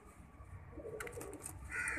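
Soft pigeon coos murmur close by amid rustling and light background noise, with a brief fluttery burst midway.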